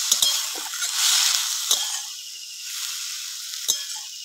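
Tender tamarind leaves drop into hot oil in a pan and hiss with a bright sizzle that swells and then settles, with a few light clinks, close and with no voices.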